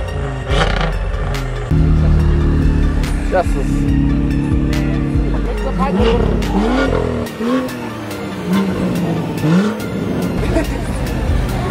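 BMW M cars, including an M2 and M3 with N55 and S55 engines, rev hard at a breakfast run meet, loud nearby engine roars rising and falling with tire squeal and skidding during drifting, people talking over them.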